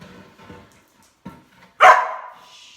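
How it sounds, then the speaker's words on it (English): Dog indoors letting out a single sharp, loud bark close by after soft rustling and small whimpering sounds, followed by a brief fading tail. "she's decided to be a barker"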